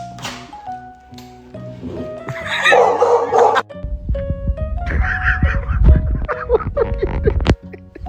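A pet dog at home lets out a mix of yips, short barks and whimpers, close and fairly loud, interspersed with squeaky whining tones and a few soft thumps.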